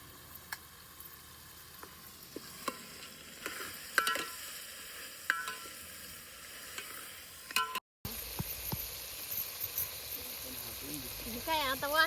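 Food sautéing in a pan while cooking a country chicken curry, soft sizzling with scattered stirring clicks and scrapes, quiet and close, broken by a brief cut partway through.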